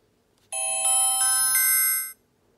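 The SOS button on a Wonlex KT01 kids' smartwatch triggers a bright electronic alert tune. It is a short run of ringing chime notes lasting about a second and a half, clear and close against near silence, with no talking.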